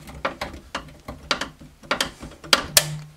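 Needle nose pliers work an electrical knockout loose from a solar inverter's metal housing, giving a series of sharp metallic clicks and snaps at irregular intervals, close and fairly loud, ending with a brief ringing clank.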